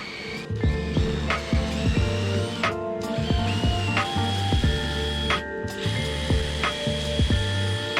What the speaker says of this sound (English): we can drill halfway into the sideboards using a 1-inch Forstner bit